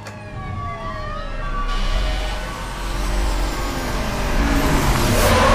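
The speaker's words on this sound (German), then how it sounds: "Und das Polizeiauto." A police car siren wails in the Batman: Arkham Asylum video game, loud and close, its rising and falling tones sweeping steadily over a low engine rumble with no talk.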